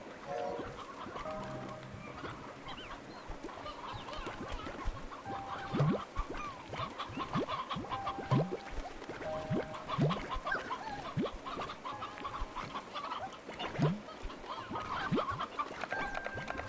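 Clucking chickens in the Slime Rancher 2 video game, with elderly roosters and hens in the flock, give repeated short calls at a moderate, steady level over a continuous game background.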